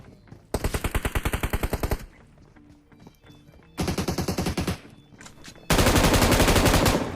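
Automatic gunfire in the mobile shooter BGMI comes in three loud bursts of rapid shots, the last a dense uninterrupted stream, separated by brief quieter gaps.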